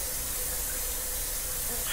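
Continuous hissing spray from a spray can in the video game Erie, close and steady without a break.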